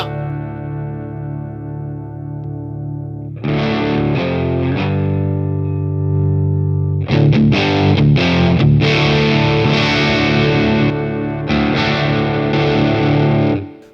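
A sustained electric guitar chord through an MXR 108 Classic Fuzz pedal into a Boss Katana amp with reverb rings out thick and heavily distorted, followed by loud fuzzy strummed chords and sliding notes, up close.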